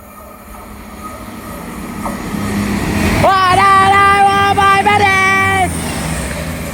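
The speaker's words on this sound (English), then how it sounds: "cross country Voyager passing through" A CrossCountry Voyager passenger train on a Manchester Piccadilly service sweeps past at speed, a rising roar with a loud tonal whine and squeal swelling for a few seconds at close range before fading back.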